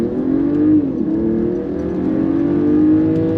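A Mercedes-Benz GLE450 with a 3.0-litre inline-six and 362 horsepower accelerates at full throttle, its engine note rising in a smooth, loud, continuous drone heard close and alone.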